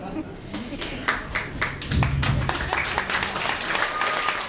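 Scattered hand claps ring out from one audience member at a concert, a handful of sharp claps early on, then a fuller wash of noise while voices talk over it.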